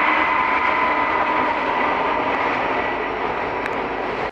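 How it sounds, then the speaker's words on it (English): A passing train produces a continuous loud rumbling roar that holds steady for several seconds and then cuts off abruptly, with no one speaking over it. "Damn train."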